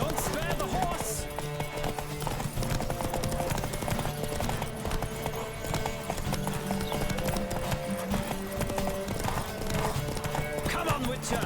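Rapid rhythmic hoofbeats of a galloping horse run throughout, with a brief whinny and some voices mixed over the steady clatter, in the video game The Witcher 3.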